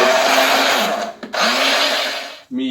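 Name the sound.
bread being pulverized into breadcrumbs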